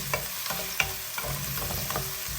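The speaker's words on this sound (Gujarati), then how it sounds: "તો થોડી વાર આપણે બધું સાતળવાનું છે." Food sautés in an oily pan with onion, giving a steady close sizzle and repeated scraping stirs, with no voices.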